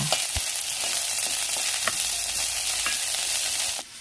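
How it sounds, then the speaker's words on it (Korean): Potatoes and onions stir-fry in pork fat rendered from the meat, giving a steady, loud hiss and crackle with periodic clinks of a utensil against the pan and no voices. "그리고 배어나온 기름에 야채를 볶기 시작하죠."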